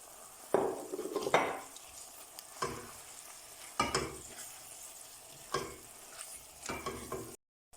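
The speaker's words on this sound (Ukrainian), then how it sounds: "вкидаємо до неї фарш, свиний або говяжий і тушимо ще 5 хвилин" Minced pork or beef sizzles softly in a pot while a utensil stirs and scrapes it every second or so, with no talking.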